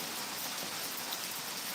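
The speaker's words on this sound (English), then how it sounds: "It's raining here now." Steady rain falling, a dense even hiss of drops with no breaks, fairly loud and close, no voices.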